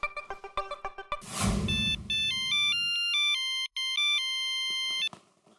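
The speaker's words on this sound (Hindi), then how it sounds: "मैं अभी फोन करता हूँ, पहले हाथी भाई को फोन कर लेता हूँ।" Taps and a whooshing noise lead into an electronic phone ringtone playing a repeating melodic pattern, loud and close, with a brief gap mid-ring.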